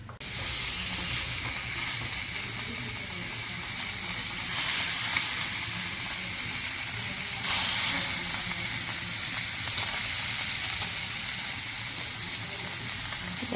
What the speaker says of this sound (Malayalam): നമ്മൾ മീനൊന്ന് പൊരിച്ചെടുക്കുക